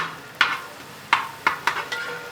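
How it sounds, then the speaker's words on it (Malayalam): Mustard seeds, crushed ginger, garlic and dried red chillies crackle and sizzle in hot oil in a pan, with a steady fry hiss and several sharp pops and stirring clatters spaced through it, close and clear with no talking. "കടുകിട്ട് പൊട്ടിച്ച് നല്ല ചതച്ച ഇഞ്ചിയും വെളുത്തുള്ളി ഇട്ട് അതിനകത്തേക്ക് പൊട്ടിക്കുക"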